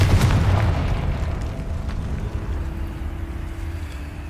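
A Confringo blast spell in Hogwarts Legacy erupts as a deep, booming explosion inside a decayed catacomb, loud at first, then rumbling away into a long fading tail.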